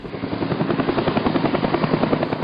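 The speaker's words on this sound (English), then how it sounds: "That was one of our only salvations, helicopters. The blowing dust and the whomp, whomp, whomp, whomp, whomp, whomp." Helicopter rotor whomping: a fast, steady pulsing thump of blades over a dense engine roar, continuous and fairly close throughout.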